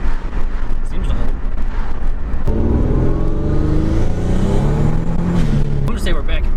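Turbocharged Pontiac Grand Am out on a test drive on a main road, its engine revving and pulling hard in loud, rising bursts, with someone talking over it.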